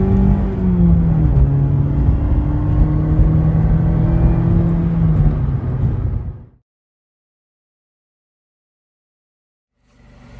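Mazda ND Miata engine with its stock air intake, a loud, close, steady drone with a slight rise in pitch over about six seconds before cutting off abruptly into silence.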